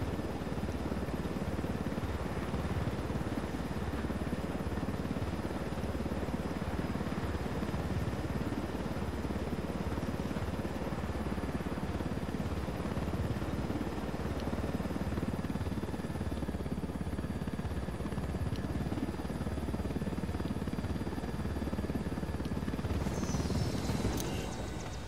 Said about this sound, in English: I love when I get to loot a chopper